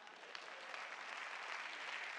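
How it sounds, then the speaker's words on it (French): Audience applause at a comedy show set in a mock parliament, a steady burst of clapping that rises slightly and holds for a couple of seconds. "Applaudissez pour lui."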